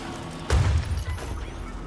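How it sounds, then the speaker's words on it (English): A flashbang grenade goes off in a video game with a sudden loud bang and a low, booming burst. It fades into a muffled rumble over the next second. "Just a flashbang"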